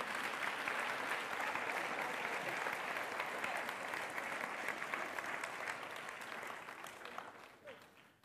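A church congregation gives a steady, dense round of applause for the speakers at a Sunday service, holding at an even level before tapering off and fading out at the end.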